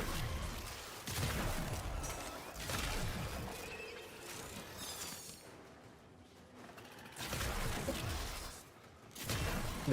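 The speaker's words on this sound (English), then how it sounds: "The fireworks" Fireworks pop and crackle in a string of bursts with rumbling booms, rising and falling in loudness, fairly faint overall.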